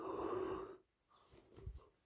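A man's drawn-out yawn, a breathy, wheezing exhale lasting under a second, close and fairly loud, followed by a pause and then soft snorting breaths.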